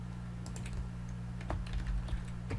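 Typing on a computer keyboard, a quick run of light, irregular key clicks heard up close over a steady low hum, with no voices.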